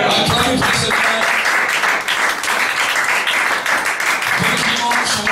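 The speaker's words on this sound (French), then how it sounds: "Acclamez pour cette fête." Church congregation applauding at a Sunday service, a steady dense wash of clapping that holds loud throughout, with a voice speaking over it near the start.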